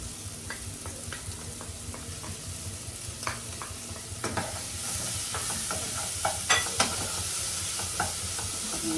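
Onion frying in a pan with potatoes and mutton in masala, a steady close sizzle broken by scraping and clacking stir strokes with a utensil, irregular and fairly loud, no talking.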